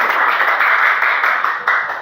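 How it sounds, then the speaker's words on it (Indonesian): A classroom group applauding after a group presentation, a dense, bright wash of many hands clapping steadily for about two seconds, close and fairly loud. "kita kasih tepuk tangan untuk kelompok 2"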